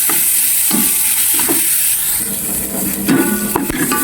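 Garlic and onion cook in a little oil with a loud, close hiss and sizzle, and there are several scraping knocks of a spatula against the pan. No voice is heard.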